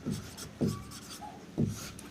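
A marker or chalk writes on a board in three short, soft strokes spaced roughly a second apart, faint and close, with no talk over them.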